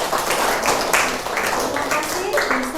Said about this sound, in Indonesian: Kalau cukup bisa aplaus untuk teman-teman.